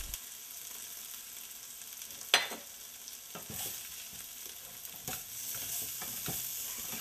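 Turmeric and spices frying in oil for a Bengali climbing perch fish curry, a faint steady sizzle with scattered scraping stirs and one sharp clink, close and without talk.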